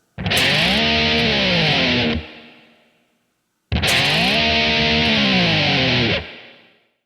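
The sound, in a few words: distorted electric guitar sliding back down the fretboard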